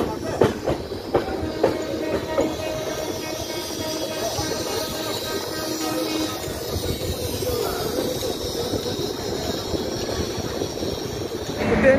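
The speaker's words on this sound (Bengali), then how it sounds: "ট্রেন আমাদের পাস করছে সীতারামপুর জংশন" A train rolls through Sitarampur Junction on the Howrah–New Delhi main line, with loud clattering wheel knocks and metallic rail sounds near the start easing into a steady rumble of wagons passing close by.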